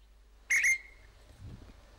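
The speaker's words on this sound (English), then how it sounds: "Once the guard has blown his whistle and lowered his flag, it's full steam ahead for Haven Street." A guard's whistle at a steam railway station on the Isle of Wight, one short loud shrill blast with a brief trailing tone, followed by a faint low rumble.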